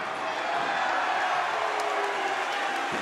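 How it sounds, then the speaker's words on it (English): Arena crowd at a YOKKAO 27 Muay Thai fight roaring in support of fighter Christopher Shaw, a steady, loud wash of cheering and shouting under a commentator's voice. "Crowd going mad and getting behind Shaw now"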